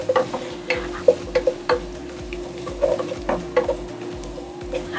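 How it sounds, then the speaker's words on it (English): Ginger and garlic frying in a pan for suya coconut rice, giving a steady close sizzle with occasional stirring scrapes and light clinks, and no talking. "We're going to allow that fry a bit."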